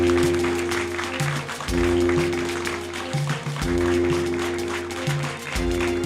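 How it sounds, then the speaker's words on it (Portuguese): An audience applauds at a live show, clapping loud and close over a sustained musical backing that carries through the whole stretch. "Uma salva de palmas para todos que estão aqui"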